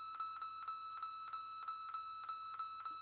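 An electronic device beeps each time its blue touch screen is pressed, giving a rapid run of short, even electronic tones close by, steady and loud with no talk.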